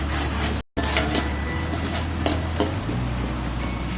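A chicken korma mixture being stirred in a pot over a low-to-medium flame, with a close, steady sizzle, soft scraping and clinks from the spoon against the pot, and a brief dropout near the start. No voices.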